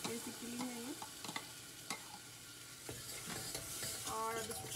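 Medium onion puree frying in a pan, a quiet sizzle broken by repeated scraping stirs and a few sharper clinks, close and low in level with no talk.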